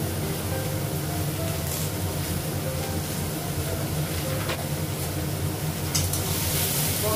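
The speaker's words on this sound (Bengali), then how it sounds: "মশলা বেগুনটা একটু ভাজবো" Eggplant pieces fry with ground spices, salt, cumin and turmeric in a pan, giving a continuous close sizzle with faint clinks, steady and unbroken, with no talking.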